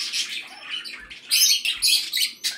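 Small pet parakeets, including a plum-headed parakeet, chirp and squawk in quick, shrill bursts close by, the calls overlapping in a busy, uneven chatter.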